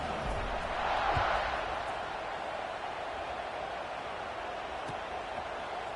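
A stadium crowd at a college football video game, Michigan vs Arizona State, before kickoff: a steady, moderate roar of ambient crowd noise that swells briefly and then holds.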